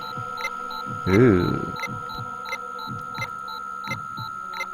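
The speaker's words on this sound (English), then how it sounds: "the heartbeat is part of the game" Steady rhythmic heartbeat thumps from the horror game Dementium: The Ward, pulsing about twice a second alongside a constant electronic hum and regular beeps, with a brief voice exclamation near the start.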